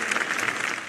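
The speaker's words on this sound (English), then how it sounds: "It was a moment that received warm applause from the crowd" A crowd at a papal funeral in Rome breaks into warm applause, a dense, steady burst of many hands clapping together, heard only briefly.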